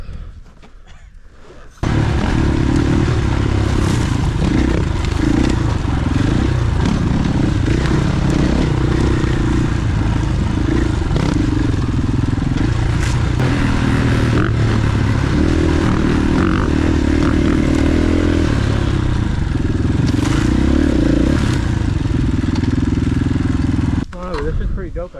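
A motorcycle being ridden outdoors gives a loud, steady engine drone that starts after a short quieter moment and runs almost to the end, with wind rumble and voices talking over it.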